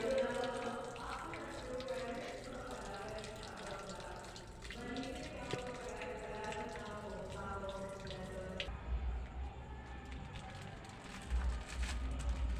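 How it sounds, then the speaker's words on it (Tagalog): Water runs from a tap into a basin filling for hand laundry, a soft continuous splashing that stays low and fairly distant, with some clatter and handling sounds mixed in. "Napuno na nga tong tubig."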